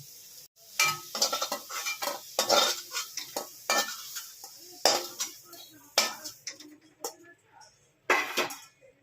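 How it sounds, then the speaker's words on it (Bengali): Fried prawns lifted out of a wok with a metal spatula, giving repeated sharp scraping clinks and clatters against the pan over a soft background sizzle, close and irregular. "আমি চিংড়ি মাছগুলোকে এবার তুলে নিচ্ছি।"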